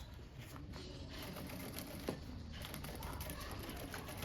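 A sewing machine backstitching fabric while making a backpack, running steadily with a fast, even mechanical chatter throughout, close and fairly quiet, with no talking.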